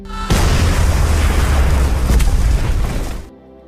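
A bomb vest detonates in an action film scene: a single huge, loud blast that roars for about three seconds, then cuts off abruptly.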